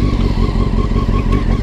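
Loaded sport motorcycle running steadily on the road during a camping trip, its engine a loud continuous drone with a rough pulsing texture close to the mic.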